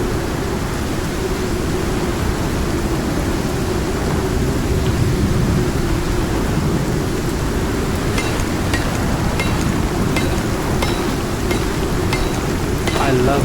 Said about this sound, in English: But imagine being in a storm like this.